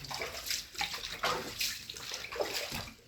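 A pump drains flood water from a hurricane-flooded basement, with continuous splashing, gushing water and rhythmic surges over a steady rush, close and fairly loud.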